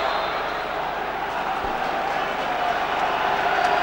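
Football crowd at West Brom v Crystal Palace in April 2002 keeps up a steady, dense roar of massed voices that holds at an even level throughout.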